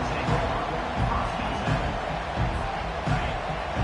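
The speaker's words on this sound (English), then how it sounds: "This crowd bringing the energy and noise early." A football stadium crowd roars in a steady, loud wall of cheering and noise, with rhythmic swells suggesting chanting or clapping, heard with commentary talk over it.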